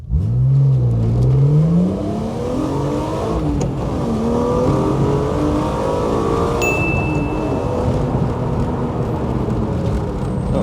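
A BMW E36 M3, about 25 years old, accelerates hard from a standstill on a slightly damp surface, its engine note rising steadily through the revs, loud and close for the whole run with no one speaking.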